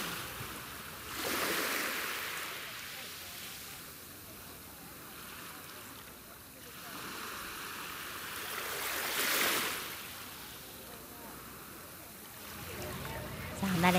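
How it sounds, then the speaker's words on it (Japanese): Recorded ocean waves play at a festival in Yomitan, Okinawa, surging and washing in slow swells, with two louder crests building and fading over steady background roar. "後ろの方では波の音が、 素敵ですね"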